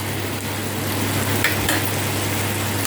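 Ginger garlic paste dropped into a hot pan for a Tamil-style lentil rasam and stir-fry, giving a steady, close broadband sizzle with a low hum beneath and a brief flare of hiss partway through.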